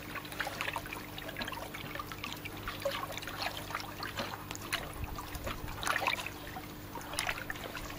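Hydroponic nutrient solution is stirred in water, giving a continuous soft sloshing and trickling with occasional louder swirls against a steady low background hum.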